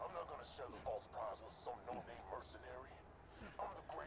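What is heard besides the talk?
None of the usual background noises is heard.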